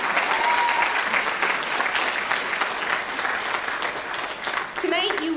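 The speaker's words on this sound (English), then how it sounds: "Let's give these folks a big round of applause." An audience at a college speech night breaks into loud, sustained applause, dense clapping filling the hall throughout, with a voice beginning to speak over it near the end.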